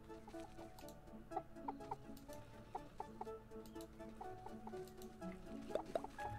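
Five backyard chickens cluck and call in short, scattered bursts close by, with a steady low hum of ambient noise beneath them and no talking.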